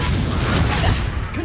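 Confringo fire-spell explosion in the video game Hogwarts Legacy, a dense, loud, rumbling blast that fills the whole short moment with continuous booming noise and no clear voice on top.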